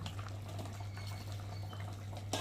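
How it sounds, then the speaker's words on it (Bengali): A rui fish curry with potatoes simmering in a pot, a soft, steady bubbling and watery burble with a low hum underneath and a brief louder knock at the end, no voices. "আর এবার আমি ভেজে রাখা মাছগুলোকে দিয়ে ভালো করে ফুটিয়ে নেব"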